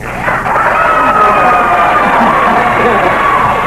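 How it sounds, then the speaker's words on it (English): A studio audience on a 1983 television game show breaks into loud, sustained applause and cheering that swells and holds steady throughout. "The applause was swelling, Charles."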